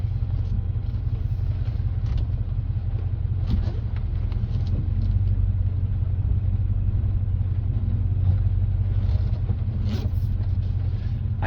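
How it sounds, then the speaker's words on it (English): A 2005 Toyota Tundra Limited 4x4 backing up in reverse, its engine giving a steady low rumble throughout with faint mechanical noise on top, close by and with no talking. "I'm shifting in reverse right now"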